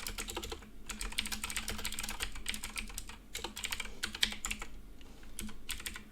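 Fingers type code on a computer keyboard in rapid, uneven bursts of crisp key clicks, close and fairly quiet, with brief pauses between runs and no talking.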